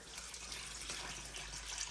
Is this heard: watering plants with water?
yes